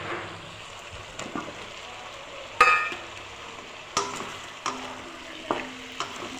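Eggplant pieces dropped into a pan of frying, nearly melted tomatoes, followed by spaced stirring clacks over a soft, steady sizzle, heard up close.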